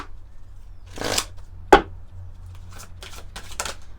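A deck of moon oracle cards is shuffled close by in a few short riffling bursts separated by quiet pauses.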